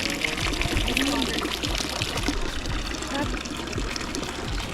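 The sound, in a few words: drinking fountain water flowing in Zermatt, Switzerland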